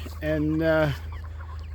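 A chicken on a farm gives a short clucking call, close and clear, lasting under a second, with a brief voice beneath it and quiet outdoor ambience afterward.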